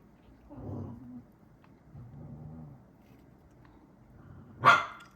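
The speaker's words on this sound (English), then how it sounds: "the doggy, she is barking" A dog barks at a cat indoors, a few muffled low barks in two short bursts followed by one sharp, louder yelp near the end.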